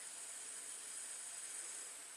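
Steady high-pitched hiss of water sizzling on a hot battery cable of a 2008 Saturn Vue V6, constant and close, with no other sounds.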